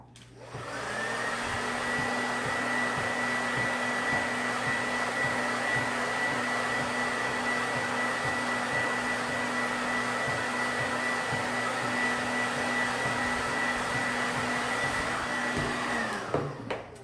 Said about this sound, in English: I'm going to blow dry this so we can put the top on.